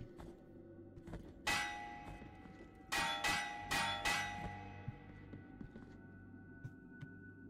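A bell-wielding enemy in the video game Blasphemous shakes its bell to attack: one loud metallic clang, then a quick burst of four ringing clangs that fade, followed by faint scattered clicks.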